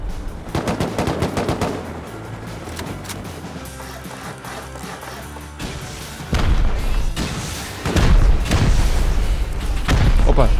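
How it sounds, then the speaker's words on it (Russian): Explosions and automatic gunfire during a raid in the survival video game Rust, loud dense bursts of shots with heavy booming blasts that grow louder toward the end, no talking over them. "Ага, я вижу взрывы."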